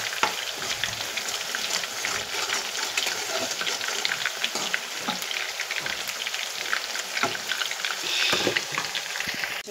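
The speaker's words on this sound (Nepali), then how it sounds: "कोफ्ता पनि हालिसकेँ, यहाँ फ्राई हुँदैछ कोफ्ता।" Chicken koftas frying in a pan, a dense continuous sizzle and bubbling of hot oil, loud and close, with occasional crackles and pops throughout.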